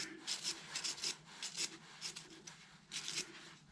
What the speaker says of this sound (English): all I tend to do is just use a wire brush and just give it a gentle clean up